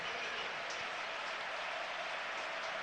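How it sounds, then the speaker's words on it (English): Football stadium crowd at Barcelona v Atletico Madrid applauding as a striker is substituted, a steady, dense wash of distant clapping and crowd noise filling the whole moment without letup. "Eto'o being replaced by Thierry Henry. massive round of applause"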